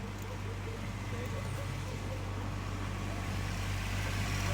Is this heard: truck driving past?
yes